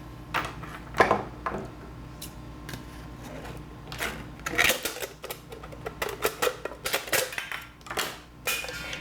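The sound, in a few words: cutting a can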